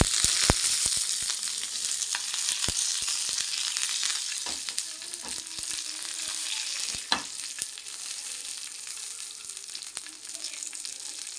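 Dried chili, garlic, mustard seeds, cumin and curry leaves tempering in a spoonful of hot oil, a bright continuous sizzle peppered with sharp crackles and pops from the seeds, close and with no voices.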